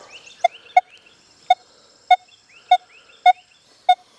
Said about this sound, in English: You hear that nickel being detected, okay? There's no ID in that window. But we do hear the tone.